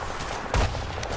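Gunfire in the World War II shooter Medal of Honor: Above and Beyond during a D-Day assault, a loud burst of shots standing out over a dense, continuous battle din.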